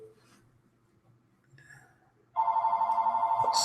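A telephone rings with a steady electronic trill that starts loud partway through after quiet room noise, repeating in rapid pulses, one of many calls coming in over and over.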